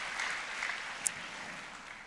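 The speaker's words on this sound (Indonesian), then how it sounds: "Berikan tepuk tangan yang paling meriah bagi Tuhan Yesus" A church congregation applauds during a worship service, giving a steady wash of clapping at moderate, even loudness with no break.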